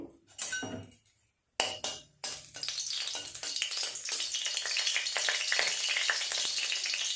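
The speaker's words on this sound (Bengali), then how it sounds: "আগে বেগুনগুলো দিয়ে আমি ভেজে নেব।" Eggplant pieces dropped into a wok of hot mustard oil with dried chillies crackle and spit, then settle into a dense, steady frying hiss with metal clinks from the wok, close and fairly loud.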